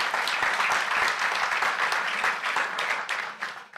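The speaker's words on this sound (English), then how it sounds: "We can clap for that." At a city council meeting, a crowd claps together in a steady, fairly loud burst of applause that runs for several seconds before tapering off near the end.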